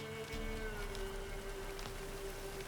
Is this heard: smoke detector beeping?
no